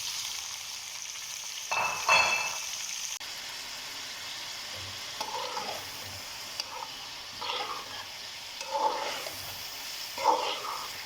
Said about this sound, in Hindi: इसको भी हम तकरीबन 30 से 40 सेकंड फ्राई करेंगे।